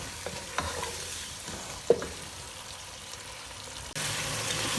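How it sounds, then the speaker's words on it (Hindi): Yogurt and freshly ground whole spices frying in a pan while being stirred, a close sizzle broken by spoon scrapes and a sharp clink, swelling louder near the end, with no voices. "अब हमने 4 से 5 मिनट इसकी अच्छी तरह से भुनाई करनी है"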